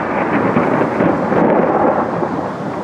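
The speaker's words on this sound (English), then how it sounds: "That clip there was from my bedroom window of the thunder and the rain." Thunder rumbles through steady, dense rainfall heard from a bedroom window, a continuous loud wash of storm noise with no pauses across the clip.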